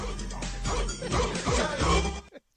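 Dog barking used as a sound effect on a sports radio broadcast, a dense burst of overlapping barks and crashing noise that is loud and busy, then cuts off abruptly at the end.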